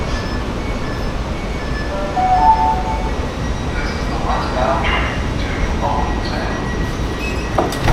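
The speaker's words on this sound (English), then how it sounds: "These trains are built by Japanese company Hitachi." New Hitachi-built subway train running westbound toward Owings Mills in Baltimore, a steady rumble of rolling cars with faint wheel squeal and tonal whines, continuous throughout with a voice talking over it.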